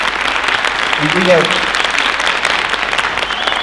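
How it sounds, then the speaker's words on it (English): Applause from a graduation ceremony audience at a high school, broad steady clapping lasting throughout, with a voice speaking briefly over it. "Okay, I need you guys to give her applause."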